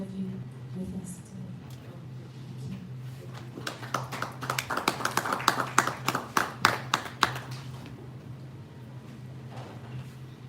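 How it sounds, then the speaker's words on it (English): Audience at a book launch breaking into applause, scattered claps that swell into a dense, fairly close burst of clapping, then taper off into quiet room noise. "Round of applause once again, ladies and gentlemen"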